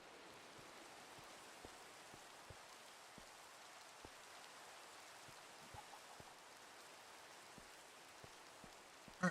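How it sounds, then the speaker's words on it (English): Steady rain falls in Minecraft, a soft continuous hiss of raindrops with faint scattered taps, quiet and even throughout with no talk. "I hear rain, so we're definitely free."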